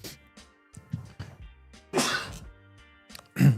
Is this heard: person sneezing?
yes